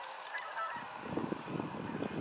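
Canada geese honk repeatedly from a flock, with layered calls overlapping at a moderate distance against a constant outdoor background.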